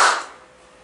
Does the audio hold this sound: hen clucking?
no